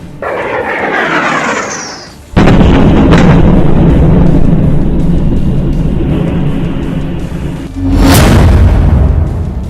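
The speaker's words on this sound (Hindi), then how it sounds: "कीव की रिहायशी इमारत से टकराती मिसाइल की ये दूसरी तस्वीर जरा गौर से देखिए" A missile striking a residential building in Kyiv during the Russia–Ukraine war, a loud roaring blast that hits suddenly and sustains a heavy rumble, preceded by a rising whoosh and followed by a second sharp surge.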